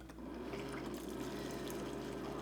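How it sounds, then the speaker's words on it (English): Hot water poured over a tamarind block to soak it, a continuous close liquid gush and bubbling stream lasting a couple of seconds at a steady level. "we're gonna pour some hot water to let it soak"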